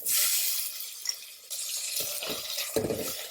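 Tomatoes fry in a pan with small onions and curry leaves, giving a continuous close sizzle that dips briefly and resumes, with a few short stirring scrapes near the end and no speech.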